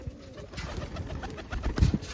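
Pigeons cooing close by at a feeding spot where grain has been scattered beside a filled water trough, a continuous low burbling with a louder swell near the end, no talking.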